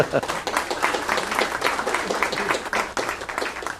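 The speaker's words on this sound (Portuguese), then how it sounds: "Vamos dar uma salva de palmas para elas." Applause from an auditorium audience at a municipal chamber health talk, a steady dense patter of many hands clapping at close range for about four seconds, with voices mixed in.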